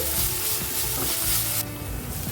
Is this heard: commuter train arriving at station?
no